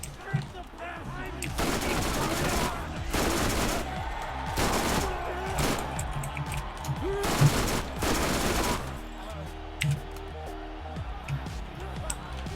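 Assault rifle fire in Borderlands comes in loud bursts of shots over game music, with people talking through much of it.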